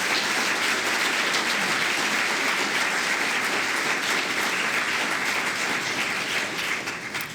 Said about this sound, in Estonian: teeme aplausi Riho Rosin